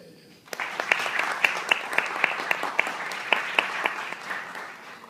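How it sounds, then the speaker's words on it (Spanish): An audience at a painting unveiling in Higüey breaks into applause, a moderate round of clapping with a few sharper, louder claps standing out, holding steady for several seconds. "El aplauso para ella."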